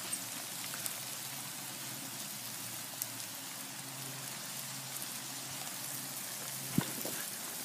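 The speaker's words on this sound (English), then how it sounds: "It's like hail. It's miniature hail." Tiny hailstones patter steadily outdoors, a dense, even rain-like hiss of small impacts with a few sharper ticks, continuous and moderately quiet.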